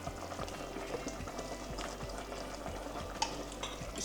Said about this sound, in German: Deckel drauf und dann darf die Suppe bei mittlerer Hitze etwa 20 Minuten ganz gemütlich vor sich hin köcheln.